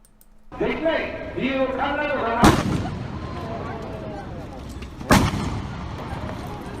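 Two sharp, booming shots from a homemade shotgun ring out about two and a half seconds apart during the assassination of a politician at an outdoor gathering in Japan, while voices and crowd noise carry on around them.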